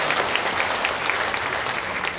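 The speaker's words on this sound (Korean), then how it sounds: "다시 한번 큰 감사의 박수 부탁드리겠습니다" Audience applause at a county hope talk concert in Uljin, a steady dense wash of clapping filling the whole short stretch with no voices over it.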